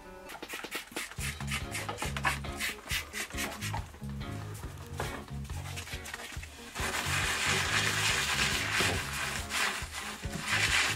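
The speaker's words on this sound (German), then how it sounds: "Ich arbeite jetzt auch wirklich mit der Scheuerseite" Close, rhythmic scrubbing strokes with the abrasive side of a scouring pad rasp across rustic oak furniture, back and forth in quick repeated passes, growing steadier and louder toward the end.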